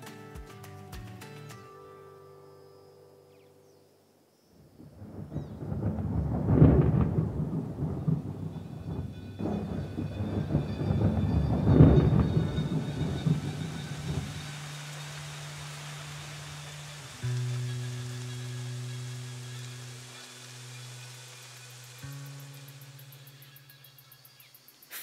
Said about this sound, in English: Finally, the rain has come